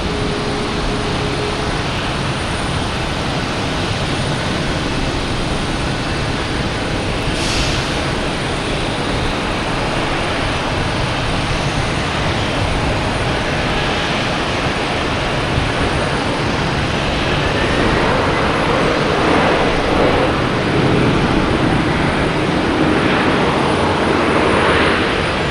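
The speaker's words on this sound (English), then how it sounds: "Now we have Iceland Air coming in from Keflavik, 767" Icelandair Boeing 767 arriving at Boston Logan from Keflavik, a loud, continuous jet engine roar that holds steady and swells slightly toward the end, with no talk.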